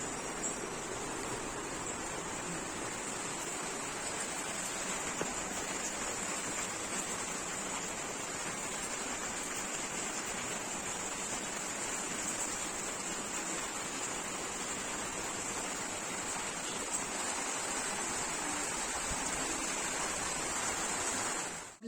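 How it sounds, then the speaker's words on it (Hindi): Steady, even hiss of falling rain fills the whole stretch, constant and moderately loud with no voices or breaks. "और अब हो रही है बारिश।"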